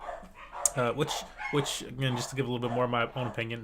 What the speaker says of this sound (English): Sorry about my dogs that are going right now.